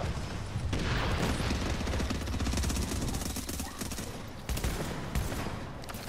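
Continuous rapid gunfire in a video game, the player's character under fire, with dense overlapping shots and bursts that stay loud throughout the stretch.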